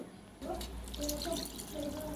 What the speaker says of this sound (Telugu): వాటర్ పోసిన ఇలా